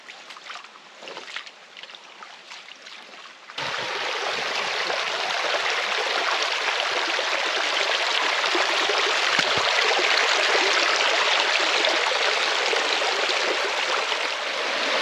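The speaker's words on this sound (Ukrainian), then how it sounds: "Українські карпатські водограї." Mountain stream in the Ukrainian Carpathians flowing over a road, a steady broadband rush of water that starts quieter with faint splashing, then jumps to a loud, close, continuous roar for the rest.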